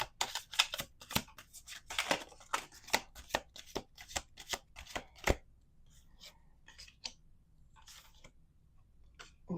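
Playing cards are shuffled during a tarot-style card reading. Brisk, crisp riffling bursts come in a quick rhythm close to the listener, then thin out into softer, scattered card rustles toward the end.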